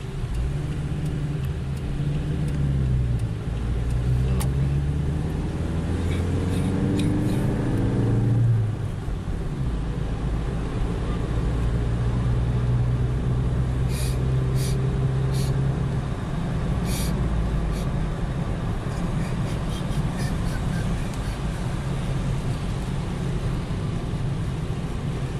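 Car driving through Warsaw city streets, a steady close engine and road rumble running throughout, with low voices talking inside the cabin.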